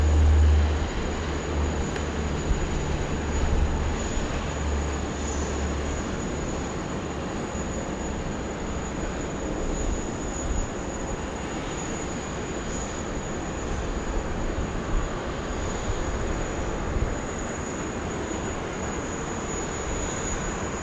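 An aircraft landing on runway 16 right at Sydney Airport, a sustained broad jet rumble and roar heard from a distance, steady in level over twenty seconds with a faint high engine whine, no voices.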